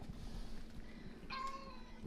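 A Bombay cat on a farm gives a single clear, drawn-out meow partway through, heard up close over a steady low background hum, with no voices.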